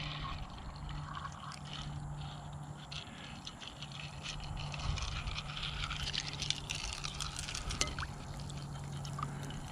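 A small solar-powered garden fountain set among river rocks has its water blown out by the wind, giving a faint, steady splashing and trickling with scattered ticks and drips.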